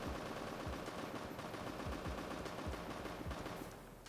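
Rapid bursts of video game shotgun fire, played in place of Maverick's torch sound, crack through a dense, continuous wash of gunfire and noise, loud and steady before easing slightly at the end.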